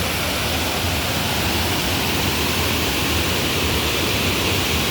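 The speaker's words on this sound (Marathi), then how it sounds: "हे धुपेश्वरातील मंदिराचा धब मंदिरा शेजारील धबधबा आहे आपण पाहू शकता" A dense, steady roar of falling water from a waterfall beside the Dhutpapeshwar temple at Rajapur in Konkan fills the scene, unbroken and loud with no voices.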